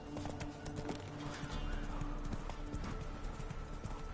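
Hooves of Roach, Geralt's horse in the video game Witcher 3, clip-clopping in a steady trotting rhythm close by, with a faint snort and some background game ambience.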